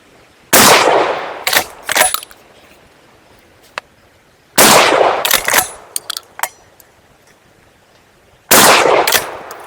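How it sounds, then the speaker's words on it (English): A Silver Eagle XP-15 shotgun fires three loud, sharp blasts spaced about four seconds apart outdoors, each followed by clattering metallic action noise as it cycles. "I'll shoot it again and then give you guys my thoughts on the forward assist here."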